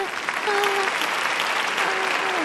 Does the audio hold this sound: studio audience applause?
yes